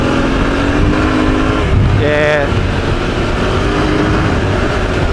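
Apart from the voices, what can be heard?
motorcycle engine revving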